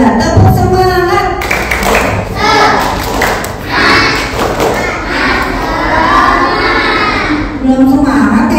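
Children in an Indonesian Quran class clap a rhythmic group "spirit clap", a steady run of close, loud claps with shouting and cheering mixed in throughout.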